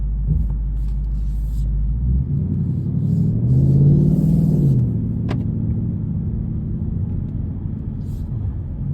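Cabin of a 2022 Ford Mustang Mach 1 driving in Sport Plus mode, a steady low engine rumble that swells briefly mid-way as the car accelerates, fairly subdued from inside.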